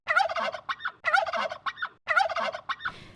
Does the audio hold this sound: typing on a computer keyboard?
no